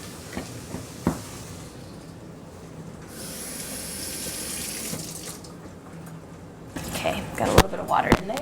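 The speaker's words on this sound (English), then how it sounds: "we're going to also add a 3/4 cup of water" Water runs from a kitchen tap while a vegetarian bean and vegetable meal is being made, a faint steady stream for a couple of seconds, followed by clattering and handling noises with voices in the background.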